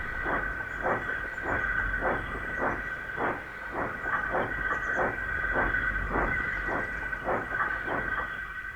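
Thomas the Tank Engine, a steam locomotive, chuffs along in a steady, even rhythm of sharp exhaust puffs over a constant steam hiss and a low rumble, close and alone.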